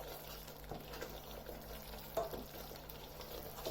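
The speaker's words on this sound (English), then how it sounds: "we will now cook all these together into the same mix that we have been stirring for the last about 7 to 8 minutes" Spices and mushroom masala mix sizzle quietly in a pan, with a soft continuous frying hiss and a few light clicks of stirring.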